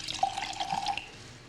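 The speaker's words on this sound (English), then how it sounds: "pour a little wine" White wine is poured into a glass in a short, quiet trickle with light splashy gurgles and a rising liquid ring, heard up close with no talking.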